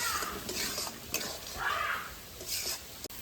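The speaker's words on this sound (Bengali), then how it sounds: "মশলাটা ভাজা হয়ে গেছে" Spice paste sizzling and being stirred in a wok while being fried down for a chicken curry, with a steady sizzle and swells of scraping where the spatula works the pan, heard close with no talk.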